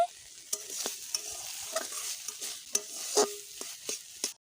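Moringa drumsticks fry with mustard spices in a wok over medium heat. A soft hiss runs underneath while a spatula repeatedly scrapes and knocks against the pan in an uneven rhythm, close by and without speech.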